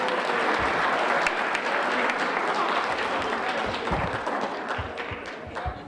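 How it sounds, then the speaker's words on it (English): Seniors at a Rotary community luncheon give sustained applause, a dense continuous patter of many hands that tapers slightly toward the end, with scattered thumps and faint voices mixed in. "So give yourselves a round of applause"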